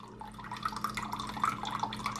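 Soy sauce poured from an opened bottle in a home kitchen, heard as a short, light trickle with small drips and splashes, close and fairly quiet over a steady low background hum.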